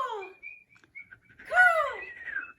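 Children's voices imitate a crow-like caw, a few short squawking calls followed by a louder drawn-out caw, close and unaccompanied by other sound.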